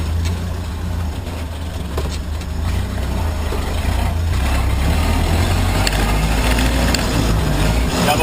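A 1928 Ford Model A rumbles across a bumpy grass field, its old engine droning low and steady with rattling and jostling as the car rolls over the rough ground, building slightly louder near the end.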